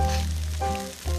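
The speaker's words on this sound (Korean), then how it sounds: "지글지글 소리에 불향 가득 뺀 고기 냄새." Chicken grills over leftover wood-fire embers in the desert, sizzling and crackling steadily, close and moderately loud.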